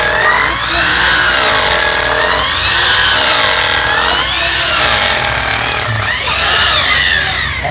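A power drill bores into a concrete beam during bathroom renovation work, loud and close, with a continuous grinding whine whose pitch rises and falls in repeated waves as pressure shifts.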